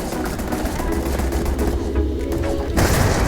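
Rapid bursts of gunfire from the Va'ruun Inflictor weapon in the Starfield video game, loud, dense and sustained, ending in a heavier blast.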